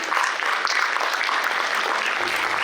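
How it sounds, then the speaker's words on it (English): An audience at a memorial service award presentation claps steadily, a dense even wash of applause filling the room throughout. "A round of applause, please."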